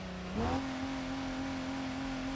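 A video game jeep engine in BeamNG.drive holds a steady idle that briefly revs up with a rising whine, then settles into a constant hum, heard alone without voices.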